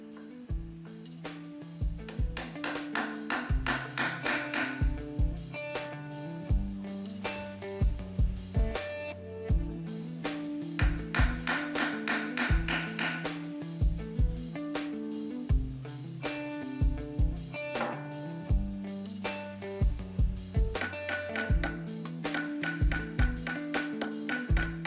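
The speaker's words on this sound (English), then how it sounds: "using a ball peen hammer, I could mushroom the end of the nail over the rove," Ball peen hammer peening copper nails over roves on a wooden boat frame, repeated sharp metallic taps in irregular bursts with bright ringing overtones, close and clear over a quiet background.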